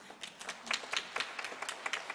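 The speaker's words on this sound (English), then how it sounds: "Please, let's give him a round of applause." Small conference audience at a landscape forum in Nairobi giving a speaker a brief round of applause, faint and thin with separate individual claps rather than a dense wash.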